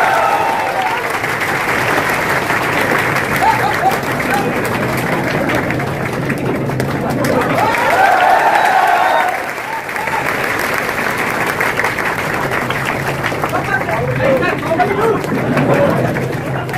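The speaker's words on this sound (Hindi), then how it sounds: "निर्मल गहलोत सर का जोरदार तालियों से स्वागत है" A coaching-institute audience gives a rousing welcome to its founder, dense clapping filling the hall continuously, swelling midway and carrying on with crowd chatter mixed in.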